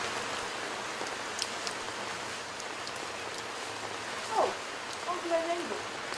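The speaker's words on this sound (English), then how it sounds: "You can see it's raining." Steady rain falls outdoors as a continuous soft hiss with scattered drop patter, while people talk over it in the background.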